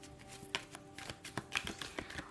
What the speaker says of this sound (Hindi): तो शफल कर लेते हैं।